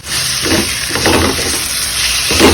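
Masala frying in oil for Kerala-style chicken kappa biryani gives a loud, close, steady sizzle, with a few scraping stirs breaking through the hiss.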